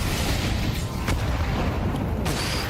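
A grenade goes off in Counter-Strike 2 during an esports playoff match, a loud, sustained low rumble with a couple of sharp transient cracks layered over it.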